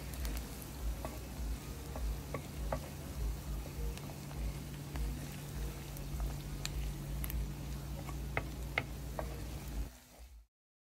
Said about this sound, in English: we are going to stir all this up together